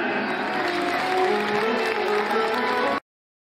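Steady applause and crowd noise during a ceremonial lamp lighting before a statue of Saraswati at a school annual function, continuous at moderate loudness before cutting off abruptly.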